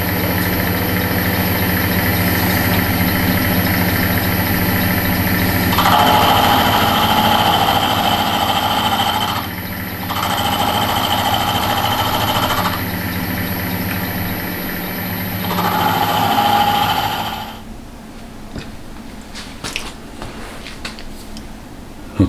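A Hemingway kit lathe runs steadily during knurling, with a constant motor hum and whine and several brief shifts in tone as the tool engages. The running stops about three-quarters of the way through, leaving quieter rattling and clicks.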